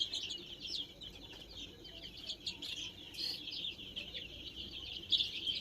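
Continuous high chirping from many chickens on a poultry farm during vaccination, a busy flock heard at a moderate distance with no talking.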